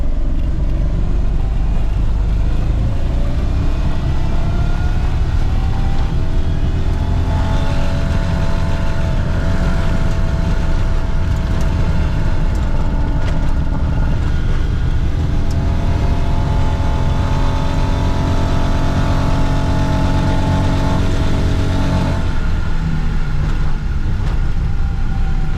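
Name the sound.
Geo Metro with big block engine swap driving in third gear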